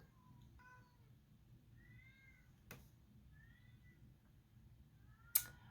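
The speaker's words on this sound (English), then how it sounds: "I'm not sure if you can hear that, but that's my cats." Soft cat meows drift in several times from a distance, faint over a low steady hum, with a couple of brief sharp clicks.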